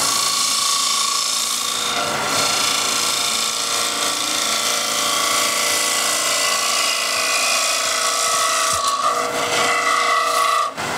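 Spindle gouge cutting wood on a spinning lathe while shaping a bowl, a steady unbroken rasping scrape that stays loud and close from start to finish.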